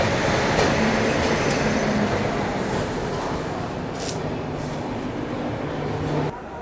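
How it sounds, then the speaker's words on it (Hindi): A train pulls into Visakhapatnam railway station with a loud, continuous rolling rumble and faint sustained wheel tones, steady for several seconds before easing off at the end. "फाइनली अपना अराइवल हो रहा है विशाखापट्टनम रेलवे स्टेशन पे"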